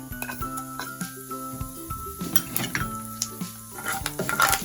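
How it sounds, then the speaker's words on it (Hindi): Panch phoron whole spices hit hot oil in a pan and crackle and sizzle with sharp popping bursts, mixed with clinks of a utensil against the pan and background music, fairly close and fairly loud. "इसी तेल में मैं डालूंगी सबसे पहले पचफोरन।"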